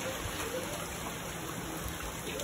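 Steady rain hisses evenly throughout, a dense wash of falling water with no breaks, moderately quiet and without voices.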